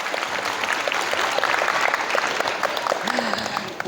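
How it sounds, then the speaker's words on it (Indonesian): Steady applause from an audience of parents and students at an evening school parenting gathering, a dense even patter lasting throughout, with a brief voice or tone rising near the end. "Tepuk tangan buat ayah bundanya yang sudah berani berdiri"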